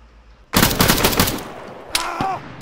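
Rapid bursts of gunfire from the Arma 3 Wasteland video game crackle loudly and densely for about a second and a half, fading into a ringing tail, then a few more shots and metallic clanks follow.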